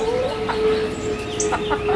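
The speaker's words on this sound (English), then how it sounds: "So my chickens are spoiled." Backyard chickens cluck softly in a steady, scattered chatter at close range, with a faint constant hum and light wind behind them.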